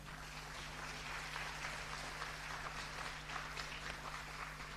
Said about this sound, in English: May I request you to give a big round of applause to our